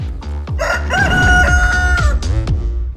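A rooster crows loudly nearby, a long drawn-out call, surrounded by clucking hens and scattered short squawks.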